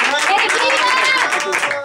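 Live audience applause at a 50th birthday celebration broadcast from a small academy hall in Genoa, a dense burst of close clapping with cheering voices mixed in.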